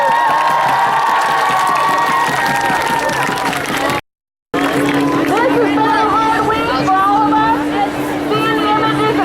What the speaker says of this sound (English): give a loud hand of applause